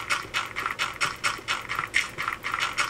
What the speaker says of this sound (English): I apologize for all the clicking.